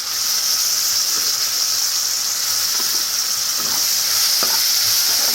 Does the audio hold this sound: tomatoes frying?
yes